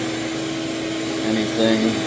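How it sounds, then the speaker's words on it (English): A chimney sweep's vacuum set up outdoors with its hose run through a door gives a continuous, even whine and hum while a person talks over it. "So the vacuum set up outside, close the door to the vacuum hose."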